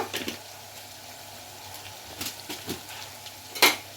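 Bitter gourd pieces stirred in a frying pan after a sprinkle of coarse salt, with a few faint scraping, clinking stir strokes over a low, quiet background, the last stroke the loudest.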